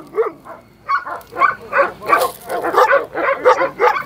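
Several sheepdogs at a livestock breeders' gathering in Kozani bark and yelp in quick, uneven bursts, loud and close, one call overlapping the next.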